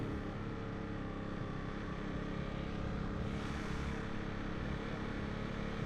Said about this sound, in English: Still letting the clutch out. There we go. We can just putt around.